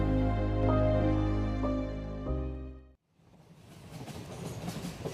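A train running on rails, used as a sound effect in a Bengali story reading. After a few seconds of sustained tonal music, a steady, rushing rail rumble with a faint rhythmic clatter takes over and slowly grows louder.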